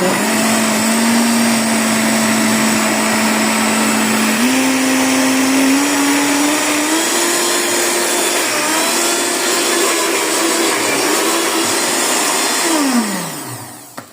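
A blender whirs loud and close as it mixes homemade laundry detergent. Its motor holds a steady high whine that shifts pitch a few times, then winds down sharply at the end.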